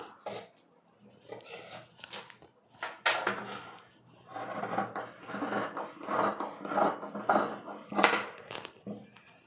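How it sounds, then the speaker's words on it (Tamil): Scissors cut through cloth for a blouse sleeve, giving close, rasping bursts of cutting that come in uneven runs with short pauses between them. No one speaks. "இப்போ ஸ்லீவை கட் பண்ணிக்கலாம்"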